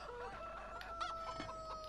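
Chickens clucking on a farm in Farming Simulator 17, a few close, faint clucks with a rooster-like call over a quiet background.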